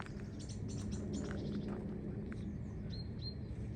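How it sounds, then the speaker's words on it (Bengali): Birds chirp in the trees on a quiet hillside in Stuttgart on an afternoon, a few short tweets and thin whistled calls over a steady low rumble of wind, faint and somewhat distant. "পাখি ডাকছে"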